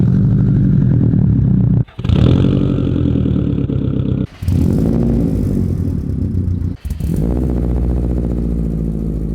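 Subaru WRX STi exhaust run through Tomei, N1 and Magnaflow systems: a loud, steady, deep engine drone with a throaty rumble, split into several back-to-back segments by brief cuts, with no talking.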